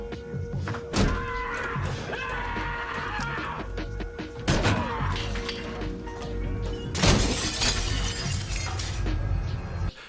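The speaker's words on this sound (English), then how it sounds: "he slams it shut and the glass breaks" Mirror glass is slammed shut and shatters in a film scene, making loud crashes and breaking-glass bursts with heavy thuds, followed by scattered tinkling debris and a second big smash, all in a busy, loud mix.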